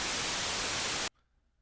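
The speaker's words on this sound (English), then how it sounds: "White noise is brighter." A loud, bright burst of steady white noise from a Roland System-8 synthesizer hisses for about a second, then cuts off abruptly into near silence.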